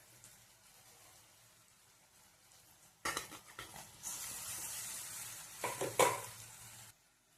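Potato palya with lemon juice is stirred in a hot pan, starting with a quiet background, then a loud scraping, sizzling spell of stirring with a few sharper clanks before it stops abruptly.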